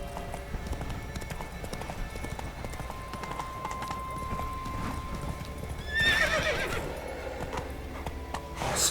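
Roach the horse from The Witcher 3 gallops with a steady, close clatter of hooves, then gives a loud, shrill neigh partway through before the hoofbeats carry on.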